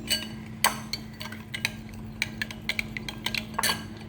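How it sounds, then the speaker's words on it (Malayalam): Two eggs with sugar are beaten by hand in a bowl, a utensil clinking and tapping against its sides in an uneven rhythm over a steady low hum. "ഈ രണ്ട് മുട്ടയും ഞാൻ നല്ലപോലെ അടിക്കുന്നു"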